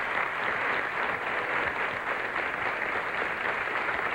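A television talk-show studio audience claps steadily and loudly, a dense, uniform wash of hands with no voices over it for the whole short stretch.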